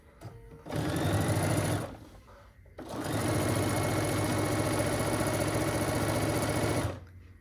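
A sewing machine runs fast while stitching a string quilt as you go, with a short burst followed by a longer steady run, loud and close and shaking noticeably.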